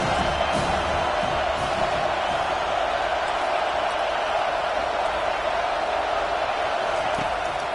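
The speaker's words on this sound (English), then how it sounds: "Here comes this home crowd as the defense tries to get off the field on 3rd down." Home crowd at a college football game roaring on third down, a dense, steady wall of cheering and noise sustained throughout, distant and unbroken.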